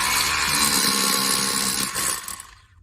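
A power drill with a new bit bores through a block in a dryer vent replacement, a loud, steady high-pitched whine that holds for about two seconds, then winds down and cuts off.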